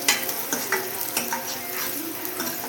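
Onions sizzle steadily in a pan while a spoon scrapes and taps against the metal at irregular intervals. No one speaks.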